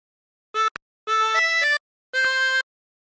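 A diatonic harmonica plays a meme tune without bends: a short note and a quick blip, then two sustained reedy phrases with shifting pitches, clear and close with silent gaps.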